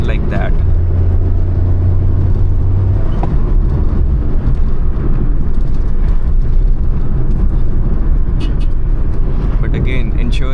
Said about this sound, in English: Just downshift your gear and move ahead like that.